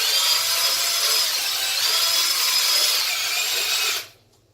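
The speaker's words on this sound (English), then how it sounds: "let that drill do the scrubbing for you" A power drill spinning a soft white scrub brush hums steadily at close range, a continuous whirring scrub on household surfaces that cuts off abruptly near the end.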